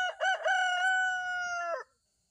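A rooster gives a single loud, close crow, rising in two quick bursts before a long sustained note that cuts off cleanly into silence.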